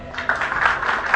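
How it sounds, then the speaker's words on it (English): An audience claps briefly at a talk on slow food, a short loud burst of hand claps that carries on steadily for about a second. "Give me a clap."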